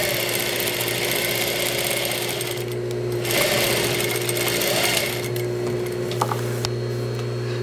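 A sewing machine runs close and steady, stitching a slipcover seam for a dining chair with a continuous mechanical whir, briefly easing and resuming, with no talking.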